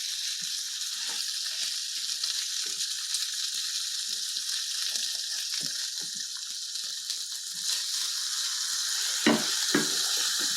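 Steady, close sizzling of beef browning in a stew pot, a constant frying hiss with scattered small pops and a couple of louder crackles near the end, with no voices.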